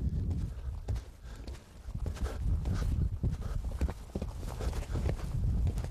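An 8-year-old mare canters during a riding session, her hoofbeats thudding in a steady repeating three-beat rhythm on soft ground at moderate distance, with a low continuous background rumble underneath.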